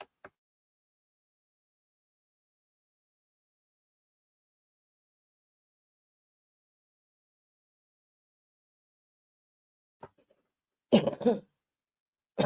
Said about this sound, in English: I do have a really bad cough